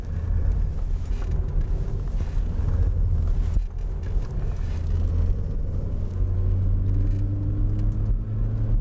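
A 1998 Vauxhall Astra weaves quickly through a slalom course, its engine droning steadily from inside the car with road rumble and wind noise, the pitch rising and falling as it changes speed.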